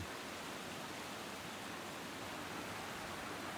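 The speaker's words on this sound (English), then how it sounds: "2 waterfalls coming out of a hole in the side of a mountain." Steady, dense rushing water fills the whole stretch, a constant broadband roar like falling water heard close by, with no voices; two waterfalls pouring from a hole in a mountainside.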